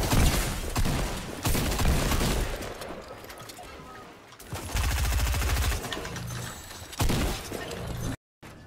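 Heavy video-game gunfire during multiplayer play, with loud repeated blasts in bursts that stop and start, a shotgun among the weapons, and voices talking over the shooting.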